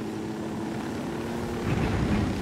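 A helicopter's rotor and engine drone steadily at mid distance in the video game Ghost Recon Wildlands, a low continuous thrum that swells slightly toward the end.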